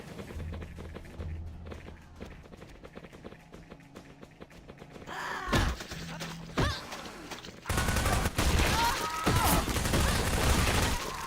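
Rapid bursts of video game gunfire with footsteps, dense and continuous, growing louder and heavier toward the end.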